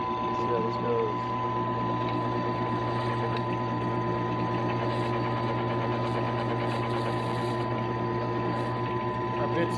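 Drill press running at 540 RPM with dull bits boring into a workpiece: a steady, continuous motor hum with a low droning tone and a faint grinding texture, close and even throughout.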